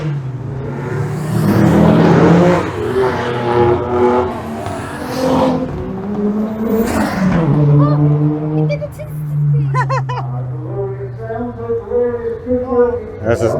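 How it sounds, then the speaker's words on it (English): A Suzuki Cappuccino and a Honda Beat drive past on the Goodwood Motor Circuit at a retro car weekend, their small engines rising and falling in pitch as they pass close by, with people talking over the sound. "the Cappuccino has been followed by the Honda Beat"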